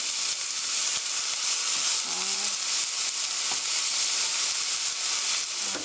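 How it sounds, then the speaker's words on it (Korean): Onions fry in a pan for a deep pan pizza, giving a continuous bright sizzle with occasional stirring scrapes, close and steady, with no talking. "양파 넣어 주세요. 그래서 프라이 3 minutes 3분 정도 볶아주세요"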